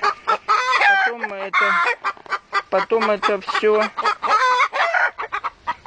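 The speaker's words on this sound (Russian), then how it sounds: "Вот они мне куры." Hens cluck and squawk busily inside a chicken coop, a dense, continuous run of close, varied calls while someone speaks briefly over them.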